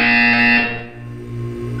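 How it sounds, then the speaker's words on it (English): A loud electronic buzzer from Portal 2 sounds alone as one harsh sustained tone, sharp at first and then dropping into a lower steady drone. "You will hear a buzzer."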